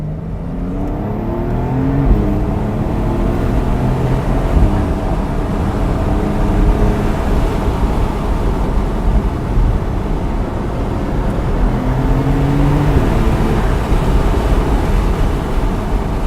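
A Porsche 992 Carrera S Cabriolet in Sport Plus mode accelerates on mountain roads, a steady dense engine roar with gear shifts rising and dropping in pitch, heard continuously from close by.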